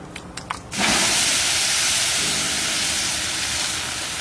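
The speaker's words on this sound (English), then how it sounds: "What I do, I just smother the fire really quick." A hot grill fire is smothered while cooking steak, a sudden loud, steady hiss bursting in after a few light clicks and holding strong to the end.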